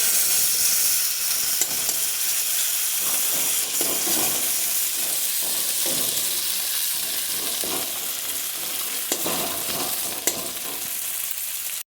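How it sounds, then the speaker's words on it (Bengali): Ground spices frying in a pan for soybean muithya, a continuous hissing sizzle punctuated by occasional scraping stirs, steady and fairly quiet throughout with no talking. "মশলা মোটামুটি ভাজা হয়ে গেছে।"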